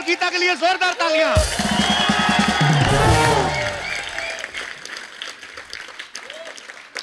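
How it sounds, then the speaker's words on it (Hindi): Studio audience of a Hindi comedy show applauding for invited guests, a burst of loud clapping and cheering rising over music and a host's voice, then fading under continued talk. "बच्ची और गीता के लिए जोरदार तालियां।"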